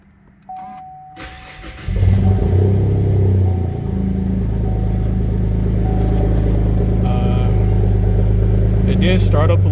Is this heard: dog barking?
no